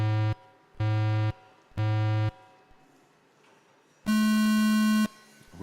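Start beeps for an FPV tiny-whoop drone race at a UK championship qualifying round: three even, loud electronic tones in steady rhythm, followed after a pause by a longer, higher go tone.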